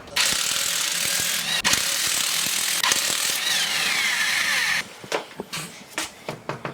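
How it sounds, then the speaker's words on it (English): A ratchet spins off the lug nuts of a raised car wheel during a coilover install. It makes a continuous, loud, close clicking whir, then stops and gives way to scattered handling knocks and clunks. "And now I'm going to remove the wheel."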